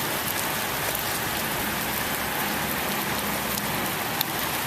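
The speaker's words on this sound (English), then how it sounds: "It is actually raining." Steady rain falling outdoors in December, a dense continuous hiss of drops hitting surfaces, loud and even throughout with no voices.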